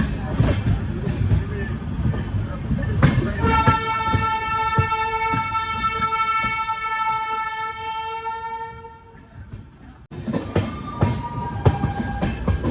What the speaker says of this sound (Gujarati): આ ટ્રેન અમદાવાદ સ્ટેશન પહોંચી ગઈ છે